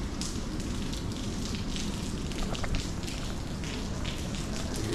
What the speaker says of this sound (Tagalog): Maulan. Ingat, madulas.